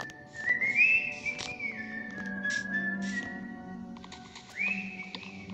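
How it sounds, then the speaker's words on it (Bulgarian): A person whistles a bright, wavering tune in short phrases, with a pause in the middle before whistling resumes. A low steady hum runs underneath, and the setting is Minecraft gameplay. "Моля те, не свиркай."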